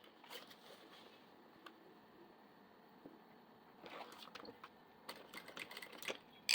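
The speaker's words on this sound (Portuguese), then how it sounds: "E eu vou começar a minha costura aqui pela parte de trás" A sewing machine stitching fabric from the back of a garment in a workroom, faint and intermittent, with quiet mechanical clatter in short runs and pauses, the rapid needle bursts growing busier toward the end.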